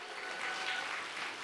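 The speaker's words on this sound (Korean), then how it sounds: "우리 모두 힘찬 환호와 박수로 맞이해 주시면 감사하겠습니다" Steady applause from a church congregation, a dense even patter of many hands clapping at once, briefly heard without voices.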